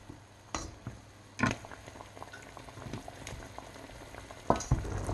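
Pork belly estofado with saba and pineapple simmers in its marinade in a pan, giving a steady low bubbling with a few louder pops and clinks scattered through.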